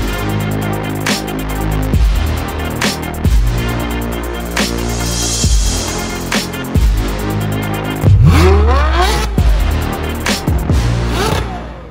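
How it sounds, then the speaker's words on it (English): Ferrari 488 GTB engine pulling hard on the road, loud and close, with repeated rising surges as the car accelerates through gears, ending in a deeper rumbling burst. "Wow, we're driving a Ferrari."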